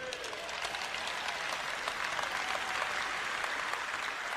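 A large church audience applauds in a dense, sustained wash of clapping that holds at an even, fairly loud level throughout.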